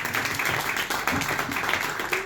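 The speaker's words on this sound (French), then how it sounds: "Sous vos applaudissements" An audience at a conference gives steady, moderately loud applause of many hands clapping, with a few voices faintly audible underneath.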